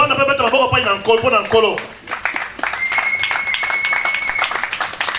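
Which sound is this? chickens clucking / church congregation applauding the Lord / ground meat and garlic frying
church congregation applauding the Lord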